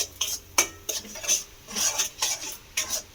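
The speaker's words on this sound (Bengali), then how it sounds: "হলুদটাকেও খুব ভালো করে মিশিয়ে নিলাম" Turmeric powder and salt are stirred into a pointed gourd dish in a pan, with a metal spoon clinking and scraping against the pot in uneven close strokes over a faint sizzle.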